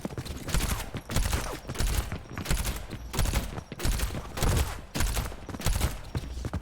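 Rapid bursts of gunfire from a first-person video game shooter, about seven sharp loud volleys in quick succession with brief gaps between, close and dominant with no talking.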